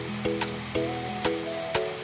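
Chopped onion, garlic and green chilies sizzle steadily in a hot wok, a continuous frying hiss broken by regular clacks of a utensil against the pan about every half second.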